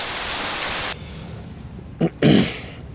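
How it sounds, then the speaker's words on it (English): Heavy rain in Bali, a dense broadband hiss of downpour that cuts off abruptly, leaving a quieter background before brief bursts of noise return. "It's raining today."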